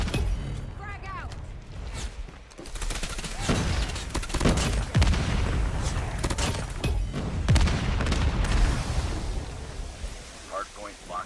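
Grenade blasts and bursts of gunfire in a hardpoint match of a Call of Duty style shooter, with booming explosions and rattling shots layered over game announcer callouts and continuous voices throughout.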